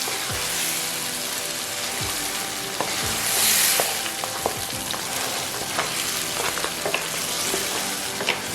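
Beef biryani ingredients stirred in a pot, with steady sizzling and scraping of the spoon against the metal in irregular strokes, close and loud, with no voices.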